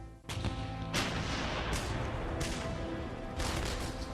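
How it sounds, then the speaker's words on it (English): US battleships shelling the islands of Guadalcanal and Tulagi in 1942, a series of about five heavy booming gun blasts spaced roughly a second apart over a continuous low rumble. "US battleships start shelling the islands of Guadalcanal and neighboring Tulagi."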